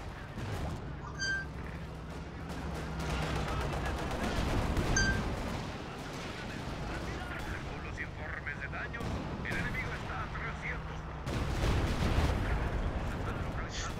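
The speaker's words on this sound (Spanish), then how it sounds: "Estoy tirando cohetes." Rockets and artillery fire in Company of Heroes 2: repeated booming launches and blasts with crackling bursts spread across the stretch, mixed with battle noise and someone talking over it.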